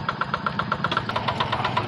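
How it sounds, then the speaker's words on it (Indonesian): Yanmar TF 65 engine fitted to a Quick G600 tractor runs at a steady idle, close and loud, with rapid rhythmic knocking pulses out in a rice field. "Traktor Quick"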